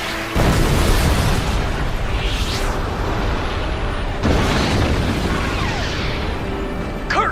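Explosions from a guided missile in a Star Fox space-combat game boom loudly, with one blast at the start and another about four seconds later, each rolling out into a long, dense rumble.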